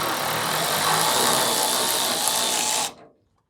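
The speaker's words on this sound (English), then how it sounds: "I'm going to just undo one of the fasteners on this side" Ratchet working loose a hood fastener on a 1974 Datsun 260Z, a steady close clicking rattle for about three seconds that cuts off abruptly.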